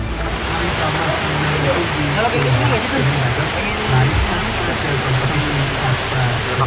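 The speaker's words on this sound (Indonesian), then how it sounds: "Hujan coy." Rain falling during an outdoor film shoot, a dense steady hiss of heavy rainfall close by with low rumbling underneath, continuous throughout.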